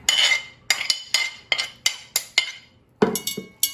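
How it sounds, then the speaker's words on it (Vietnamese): A knife minces raw shrimp on a board in quick, uneven strokes, about a dozen close crisp hits with brief pauses between bursts. "bây giờ mình sẽ đi bằm cái tôm ha, bằm nhuyễn giống như mình bằm cái củ hành vậy đó"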